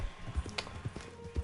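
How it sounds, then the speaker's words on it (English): A horse's hooves clip-clop at a steady walking pace in Red Dead gameplay, close and clear, with ambient game sound in the background. "just breaking in horses and selling them,"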